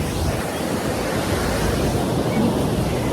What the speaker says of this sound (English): So it's a really nice day at the beach.